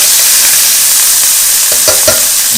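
Shrimp sear loudly with garlic in a hot pan for honey garlic shrimp, producing a constant, close crackling sizzle broken by a few quick utensil scrapes. No one speaks.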